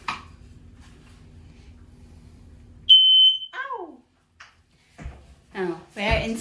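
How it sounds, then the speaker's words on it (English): A newly installed home smoke detector being tested, one loud piercing electronic beep lasting about half a second after a stretch of low hum, followed by a child's and adults' voices speaking. "Installing the smoke detector."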